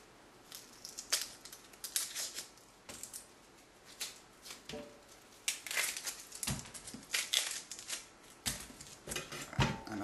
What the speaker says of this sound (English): Get the peel off a little bit.